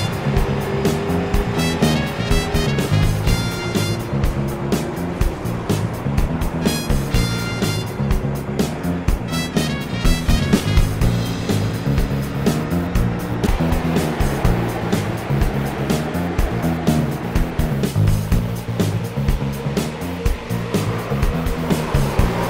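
Street stock race cars at Phoenix in the iRacing simulator, a dense continuous roar of several engines at once, loud and steady, with no talking over it.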